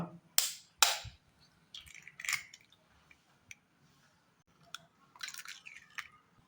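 Eggs being cracked and dropped into a bowl of onion, tomato, green chilli and coriander, a few sharp close taps and wet plops with short pauses between them in a quiet kitchen.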